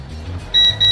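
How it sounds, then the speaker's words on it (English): A cheap MASTFUYI FY17C digital multimeter sounds its high current alarm at 10 amps: two loud, steady high-pitched electronic beeps in quick succession, close and clear against a low background hum. "as soon as you hit that 10 amps, bada bing, bada bang, you're getting the high current alarm"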